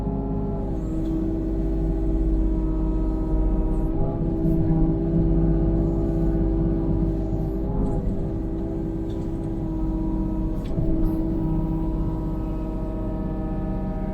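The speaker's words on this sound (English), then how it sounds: "This is my favorite kind of work with the excavator, dirt work, grading." Excavator doing dirt work and grading near the corner of a house, a steady loud diesel engine drone with slight swells in revving, close and continuous.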